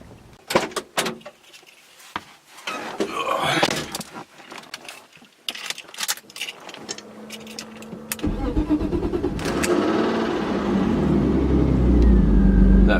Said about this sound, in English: That first startup sound.